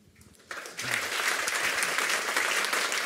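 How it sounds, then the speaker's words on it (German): An event audience bursts into applause after a brief quiet voice, the clapping swelling quickly into a steady, full, close crowd sound that holds to the end. "Applaus"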